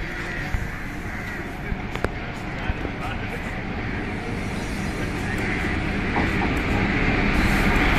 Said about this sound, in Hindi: आ गई है अपनी ट्रेन।